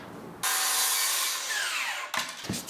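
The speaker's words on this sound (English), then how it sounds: "Use our circular saw and the speed square." A circular saw cutting scrap wood for a bed frame at a 45-degree angle, a loud continuous whining rasp of the blade through the board that starts suddenly, fades briefly near the end and then resumes.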